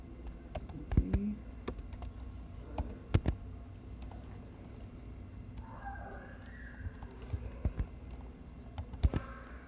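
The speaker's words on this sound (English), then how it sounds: "So now we're in the auxiliary scanner for SMB by typing in that command." Irregular bursts of clicky keystrokes on a computer keyboard as a command is typed, close and fairly quiet, with pauses between clusters and no talking.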